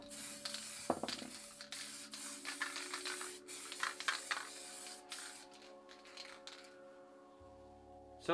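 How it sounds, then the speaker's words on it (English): Steady hissing of an aerosol spray can in short and longer bursts, close by, with a faint hum underneath. "And we'll just spray around the edges."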